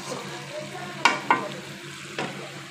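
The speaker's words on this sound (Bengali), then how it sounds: "এই দেখুন কচুটাকে আমি মশলার সাথে খুব ভালোভাবে কষিয়ে নিয়েছি।" Taro cooking with a little raw onion and spices in a pan, a soft low sizzle broken by a few sharp scraping clinks of a spatula stirring, close and fairly quiet, with no talk.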